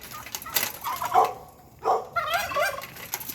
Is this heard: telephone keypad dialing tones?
no